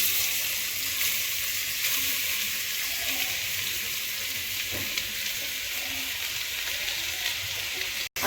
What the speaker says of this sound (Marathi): याच्यामध्ये आता आपण किसलेलं गाजर टाकतोय.